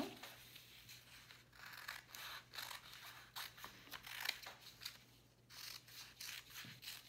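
Scissors snip repeatedly through strips of a brown paper bag, making quiet, crisp cuts in an irregular rhythm, close up.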